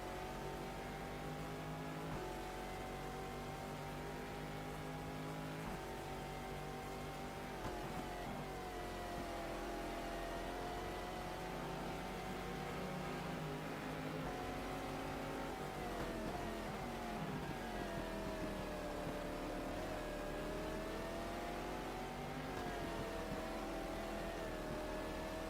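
A Porsche race car engine in a racing video game set at the 12 Hours of Sebring drones and revs continuously as it drifts, pitch rising and falling in waves, fairly faint and with no talk.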